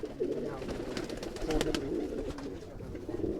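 Pigeons in a loft, Punjabi breed birds, give low soft coos and throaty murmurs that repeat steadily and close by with no talk over them.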